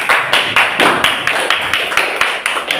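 An audience claps in applause for the first presenting group at a teacher-training class session, a steady dense patter of many hands, fairly loud and close, with no talk over it.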